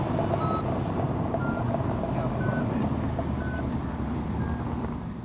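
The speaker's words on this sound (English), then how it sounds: "The beeping noise is their tracker device." A police Interceptors tracker device gives short electronic beeps at a regular pace during a high-speed pursuit, cutting through a loud, constant engine and road rumble.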